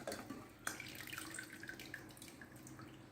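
Whey pouring and trickling out of freshly set homemade cheese curds through a strainer into a pot, a soft continuous watery splash at low level with a brief louder spill near the start.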